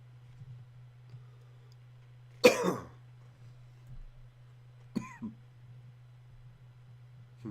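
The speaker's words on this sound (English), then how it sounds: "My cat's making noises in the other room" A cat's cry from another room sounds once, fairly loud, followed by a shorter, fainter call a few seconds later, against a steady low hum.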